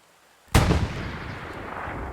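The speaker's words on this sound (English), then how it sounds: "these smoke shells are about equivalent to the arty shells" One sudden heavy boom of artillery firing smoke shells in the World War II shooter Hell Let Loose, followed by a long rumbling decay, loud and close after a brief quiet lead-in.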